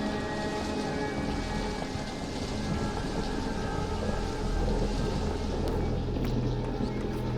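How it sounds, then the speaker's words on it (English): Steady heavy rain with low rumbling thunder rolling underneath, dense and continuous without a break, with no speech. "All that thunder is going to drive me crazy."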